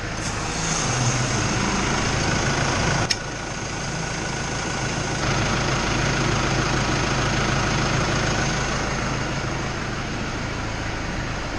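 A tractor engine runs steadily at idle, close and continuous, a low droning hum with a brief click partway through, inside an insulated farm shop before fuelling for spreading Marshall ryegrass.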